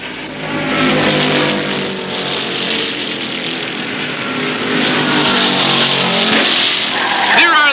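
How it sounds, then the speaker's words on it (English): Loud stock-car racing with engines roaring continuously and tires squealing as a car spins out in turn one, a dense sustained wash of engine noise with a commentator's voice underneath. "The 84 spins out in turn number 1."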